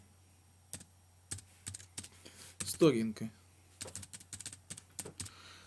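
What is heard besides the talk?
typing on a computer keyboard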